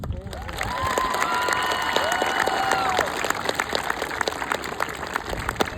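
Loud applause and cheering from a graduating class and families at a WCI class of 2025 promotion ceremony for three student speakers, sharp claps mixed with whoops and shouts, close and sustained for several seconds.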